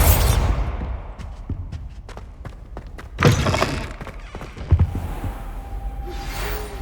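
Bombarda blasting spell from Hogwarts Legacy: a loud heavy thud near the start, then a burst of impact around the middle and a second thump, with scattered clicks and debris-like ticks between.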